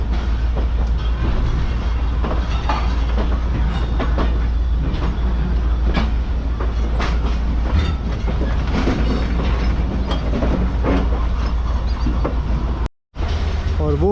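A locomotive pushing a passenger train backwards on a main line in Sindh, a loud steady rumble with a deep drone and repeated clickety-clack of wheels over rail joints, broken by a brief dropout near the end.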